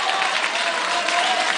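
Brief burst of audience applause greeting a newly recorded song, steady and fairly loud, a short wash of clapping with no voices on top.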